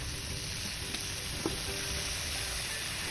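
Garlic and chili frying in a pan for shrimp with chili, salt and soft egg rice, a steady close sizzle with a couple of faint utensil taps.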